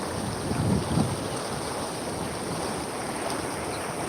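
Flood water discharging in a river after heavy rain, a broad steady roar and rush heard outdoors with wind buffeting the microphone, continuous and fairly loud.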